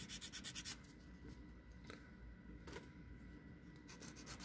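Sanding a plastic Entry Grade Strike Exceed Galaxy Gundam model kit leg by hand, a steady close rubbing rasp with a few brief louder strokes, no talking.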